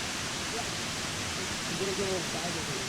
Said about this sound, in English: But we're next to the waterfall.